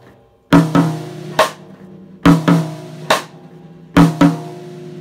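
Drum kit imitating a conga pattern on the snare drum and high tom, three repeating groups of sharp close hits with short ringing decays and quiet gaps between them, no talking.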